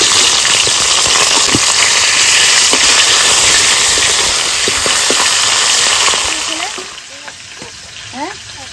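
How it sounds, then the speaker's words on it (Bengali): Fish head frying in hot mustard oil in a kadai gives a loud, steady, dense sizzle for about six seconds, then drops to quieter crackling with a few soft clinks. "গরম হয়ে গেছে, মাছের মাথা দিয়ে দেবো।"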